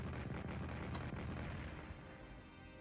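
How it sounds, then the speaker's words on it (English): Desert field artillery in Strategic Command WW2 goes off as a run of muffled booms and rumbling blasts, fairly faint and continuous, with no talking. "We're gonna shoot with the desert field artillery."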